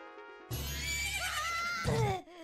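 A horse whinnies loudly in a long, wavering call over a steady soundtrack in Zelda: Majora's Mask, ending with a snort.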